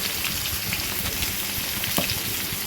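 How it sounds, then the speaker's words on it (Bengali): Fish pieces frying in a pan of hot oil, a steady close hiss of sizzling with scattered small crackles and pops, continuous and even throughout. "মাছগুলো ভাজা বসিয়ে দিয়েছি, দেখো"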